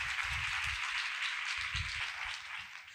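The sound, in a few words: applause for God's glory in a church service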